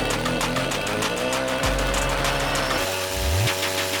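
A homemade generator built from a car alternator, chain-driven by a small engine, starts up and runs with a steady mechanical drone that shifts pitch partway through, loud and close with no talking.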